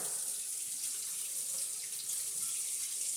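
Hot water runs steadily from a tap in a continuous, hissing stream, fairly quiet and unbroken, with no voices.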